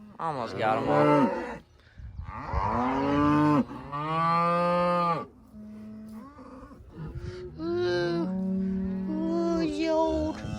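Cows on a farm moo loudly and repeatedly at close range, long drawn-out lowing calls overlapping one another, with brief gaps between bursts.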